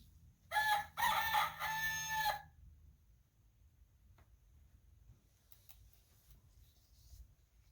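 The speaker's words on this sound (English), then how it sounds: "Find the animal that says cock-a-doodle-doo." A rooster crows once, loud and clear, the electronic recording played from a button on an interactive farm sound book. Faint low hiss and quiet clicks follow.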